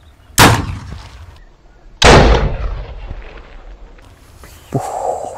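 Two sharp, booming blasts from a spirit-fuelled firecracker cannon a couple of seconds apart, each decaying with a rumble, followed by a quieter burst of noise.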